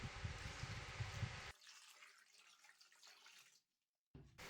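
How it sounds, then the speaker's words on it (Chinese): Cucumbers are rinsed under running water, a soft splashing flow for about a second and a half that falls to a faint trickle, then cuts off into silence before a brief return. "首先需要把黄瓜先清洗一下。"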